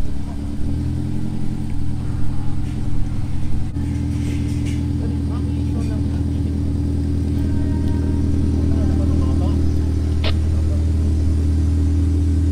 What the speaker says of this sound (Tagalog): Ganda naman ang tunog ng sakyan ni Madam. Ang muffler.